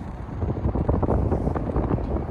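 Strong outdoor wind buffets the microphone beside a large outlet mall in Vilnius, a loud, continuous low rumble that gusts unevenly throughout with no talk.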